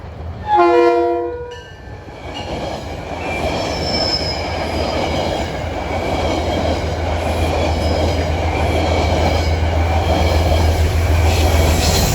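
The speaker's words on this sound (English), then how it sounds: "At 5:09, running a little late, is Metro North Train 876 from Poughkeepsie to Grand Central." A Metro North commuter train, Poughkeepsie to Grand Central service, passes along the Hudson in autumn with a loud horn blast up front, then a steady, sustained roar of wheels and cars rumbling close by throughout.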